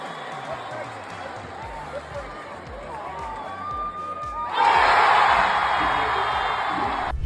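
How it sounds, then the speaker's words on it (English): Crowd in a basketball arena at an NCAA Division I women's championship moment, a steady murmur that swells abruptly into loud, sustained cheering and roaring partway through. "the crowd erupted in a chorus of celebration"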